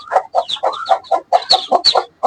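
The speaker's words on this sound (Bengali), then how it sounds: "এই মুরগিটা এতগুলো বাচ্চা দিয়েছে" A mother hen with newly hatched chicks clucks close by in a quick string of short, throaty clucks and chirpy calls, with no other voices.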